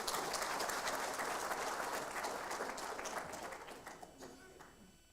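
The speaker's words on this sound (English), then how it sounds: "Let's give her a round of applause." An audience at a live examination results announcement applauds, a dense wash of many hands clapping that fades away toward the end, with no talk.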